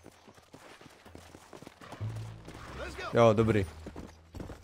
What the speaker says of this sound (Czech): Už tady je můj kůň.